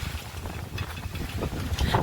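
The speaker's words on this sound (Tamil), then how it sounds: "காற்று ரொம்ப பலமாக அடிக்குது" Strong headwind buffets a bicycle rider on a mountain road, a loud, gusty low rumble of wind noise that swells and fades over a couple of seconds.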